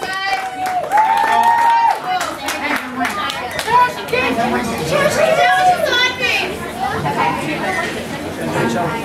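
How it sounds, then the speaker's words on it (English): Wedding guests at an evening reception break into a round of applause mixed with loud chatter, cheering and children's voices, a dense crowd sound sustained throughout. "Round of applause, please."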